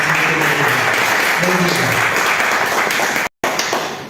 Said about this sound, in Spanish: Dê um aplauso para ela também, para ela se animar.